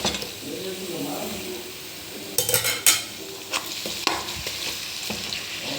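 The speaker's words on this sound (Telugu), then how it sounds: "ఇది ఒక కిలో చికెన్ అండి చక్కగా కలుపుదాం" Chicken is stirred in a pan with tamarind leaves, loud sizzling and frying under several sharp scrapes and clinks of the spoon against metal, with faint voice in the background.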